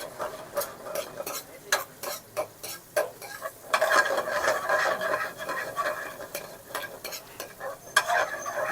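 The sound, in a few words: garlic paste frying in hot oil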